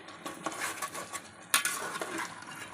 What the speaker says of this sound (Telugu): మనం కోసి పెట్టుకున్న మునక్కాళ్ళు వేసేసుకోవాలండి